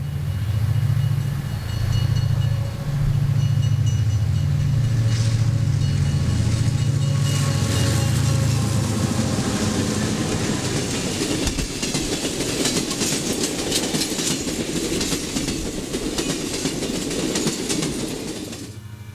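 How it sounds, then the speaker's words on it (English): An Amtrak number 7 passenger train led by a Burlington E8A locomotive rolls past, its deep throbbing diesel giving way to a loud rush of rattling, clattering wheels and cars that fades slightly at the end. "Seattle-bound number 7 rolls past Hoyt Park with a Burlington E8A"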